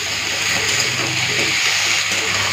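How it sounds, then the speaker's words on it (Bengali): Mixed vegetables with eggplant frying lightly in a pan, a constant loud hiss of hot oil, close and unbroken, with a faint low hum beneath and no talking. "সবজিটা হালকা ভেজে নিই"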